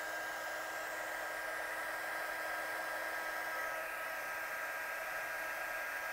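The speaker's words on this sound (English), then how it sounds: "So get your gun hot." A heat gun melting embossing powder blows a steady, even whirring hiss at moderate volume, unbroken for several seconds.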